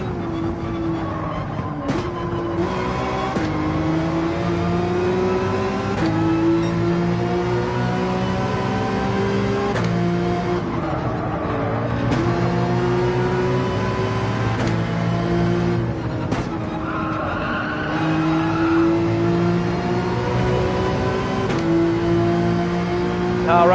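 Race car engines in Gran Turismo 7 during an online daily race whine and rev loudly, pitch climbing and dropping through gear shifts over a sustained stretch.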